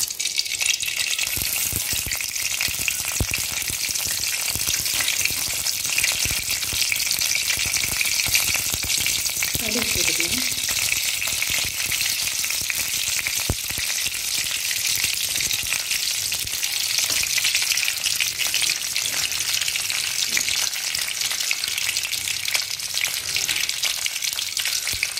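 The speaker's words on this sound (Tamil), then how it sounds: "பாருங்கள் போ, கடுகு பொரிஞ்சிருச்சு" Mustard seeds crackle and splutter steadily in hot oil with dried chillies, a loud, dense sizzle that continues without pause throughout.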